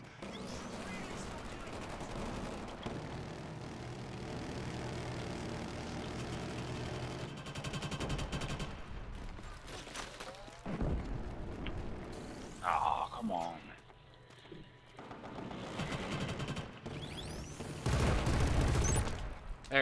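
Multiplayer gunfire from Killzone Shadow Fall, with automatic bursts rattling through a busy firefight, some heavier booms and engine-like rumble mixed in, moderately loud and shifting in intensity.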